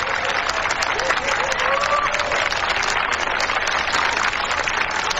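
Wedding guests applauding a newly married couple, a dense steady wash of clapping from a crowd that carries on evenly from start to finish, with a few faint voices mixed in.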